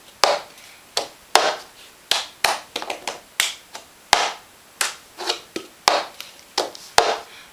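Cup song rhythm performed slowly and steadily: a repeating pattern of sharp hand claps and hard plastic cup taps and slaps on a table, close and crisp, with no talking.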